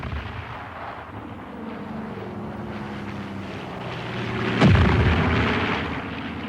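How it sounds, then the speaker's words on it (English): A French fighter bomber takes off under heavy artillery shelling at Dien Bien Phu, with a steady aircraft engine drone and a loud blast near the end amid rumbling battlefield noise. "Under the heavy shelling, only one French fighter bomber manages to take off."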